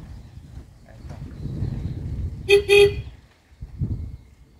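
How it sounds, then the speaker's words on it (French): A quad bike horn gives two short, loud toots close by over a low engine rumble, and the rumble carries on after the honks. "Ouais, il a même le klaxon, celui-là."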